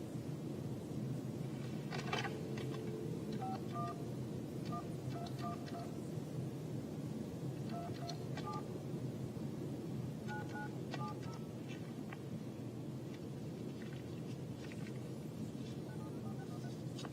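Long-distance telephone dialing, heard as a series of short, clear tone beeps scattered through the clip over a steady background hum, with no talking.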